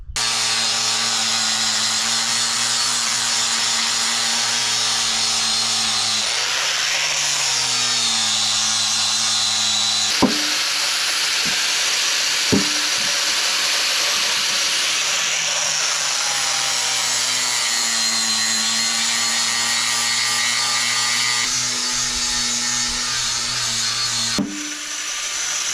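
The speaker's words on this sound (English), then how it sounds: "use the grinder probably on this, get rid of this unevenness here" An angle grinder smooths an uneven pine log being made into a bench, running as a steady loud whine throughout, with a few shifts in pitch and sharp clicks where the load changes.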